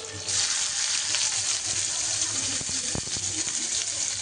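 Garlic hitting hot oil in a pan gives a steady, bright sizzling hiss that holds at an even level throughout, with a few sharp crackles near the end.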